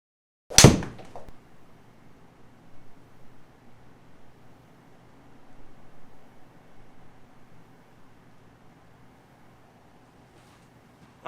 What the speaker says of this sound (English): I'll hit 3 shots now, and I'll show you that.